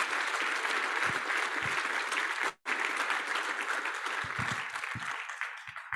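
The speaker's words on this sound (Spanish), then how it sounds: "Un fuerte aplauso" Strong applause from a seminar audience, a loud sustained wash of many people clapping that breaks off for a moment, resumes, then thins out and fades near the end.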